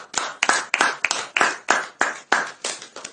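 A church congregation claps together loudly in worship, about ten sharp, evenly spaced claps in a steady rhythm, close and strong, with no talking over them.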